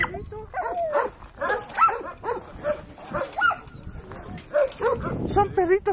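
Rescued dogs at an animal shelter bark and yip in a busy chorus, several short sharp barks and high whines overlapping throughout, close and fairly loud.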